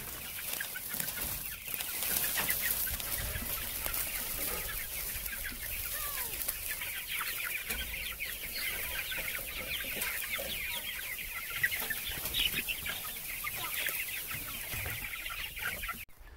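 Broiler chickens on a farm, fed and watered, cluck softly and fairly far off over a steady background hiss, with scattered bird calls and no voices.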